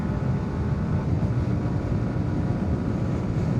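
A steady, heavy rumble of wind buffets a rider on a 2025 Yamaha R125 motorcycle in gusty conditions, dense and close, running without a break and masking the engine.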